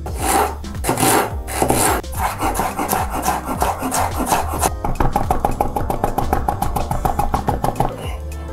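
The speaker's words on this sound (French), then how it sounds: "on va découper le gingembre et le piment. Donc un tout petit peu de gingembre haché." Knife chopping fresh ginger and chili on a board, making steady rapid taps that quicken into a crisp rhythmic run of cuts near the end, close and fairly loud, with music playing underneath.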